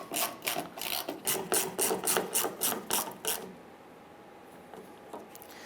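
A bolt is snugged down by hand on a 1995-2001 Ford Explorer fuel pump, a quick run of about a dozen rhythmic ratchet clicks, close and moderately loud, then stopping into quiet room noise.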